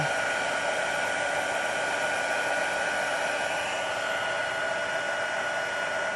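An embossing heat tool blows steadily while melting embossing powder on a handmade birthday card, a constant loud broadband whoosh that runs unbroken and alone throughout.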